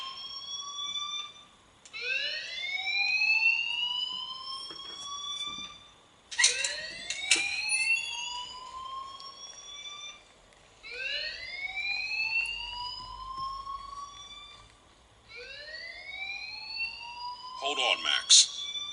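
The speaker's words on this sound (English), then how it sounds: "please turn off that alarm since that's your job" A fire alarm in the video game Life is Strange sounds as a loud electronic whoop that sweeps upward and repeats in long cycles, with speech-like bursts between some sweeps.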